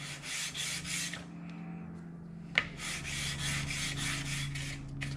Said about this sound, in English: I would give the gear a quick rub.